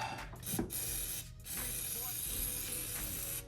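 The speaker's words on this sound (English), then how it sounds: "Just spray a little WD-40 on it." A short WD-40 aerosol spray hisses near the start, followed by a steady broadband hiss from the can being sprayed close by onto a Mustang cylinder head.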